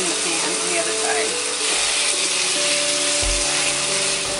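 Food sizzles steadily in a hot pan in a small trailer kitchen after being laid in seasoned side down, a dense continuous hiss with a brief low thump partway through.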